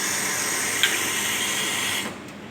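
Hot water pours steadily into a cup for an Americano, a continuous close hiss and splash lasting about two seconds before cutting off, with no talk.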